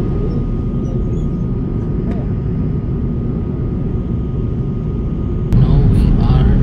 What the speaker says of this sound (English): Now we are landing on Nepal airport